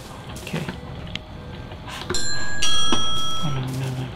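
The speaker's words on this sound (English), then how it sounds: "Ring the doorbell." A doorbell in a Minecraft Hello Neighbor game rings out with bright, sustained chime tones midway through, standing clearly above the low game ambience before slowly fading.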